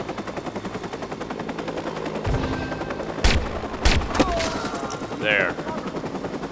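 Gunfire in the video game Watch Dogs: a rapid machine-gun rattle runs throughout, punctuated by several louder single shots, with someone talking over the action.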